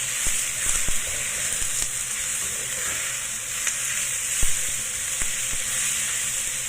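Ground pork with browned garlic fries loudly in a pan, Chinese style, giving a dense continuous sizzle with scattered sharp ticks of a utensil stirring against the metal.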